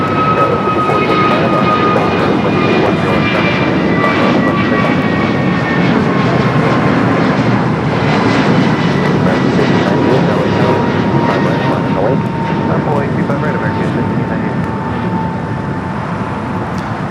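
American Airlines flight 1528 takes off from LAX bound for Philadelphia, a loud steady jet engine roar with rising whine tones filling the whole stretch, close and continuous with no voices.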